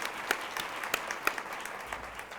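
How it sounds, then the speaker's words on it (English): Audience at a women's leadership forum claps at a soft, distant level, a thin spattering of hands with a few sharper individual claps standing out over a few seconds. "And I'll clap for that."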